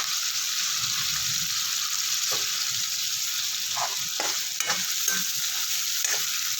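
Masala fries and gets stirred in a pan in a home kitchen. A soft, continuous sizzle runs throughout, with a few brief scraping and stirring clicks in the second half and no talking.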